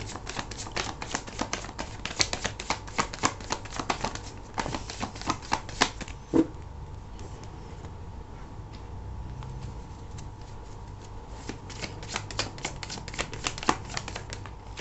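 Tarot cards shuffled and drawn from the deck, a quick run of crisp riffling flicks that thins into a few sparse card snaps near the end, close and quiet with no talking.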